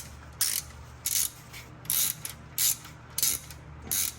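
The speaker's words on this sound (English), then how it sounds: "we're gonna go ahead and put this back in, and then we're gonna torque it in place" A ratchet wrench on a Porsche 911, used to put a part back in and torque it in place. It gives five or six short bursts of rapid clicking at an even rhythm, close and clear, with no talk over it.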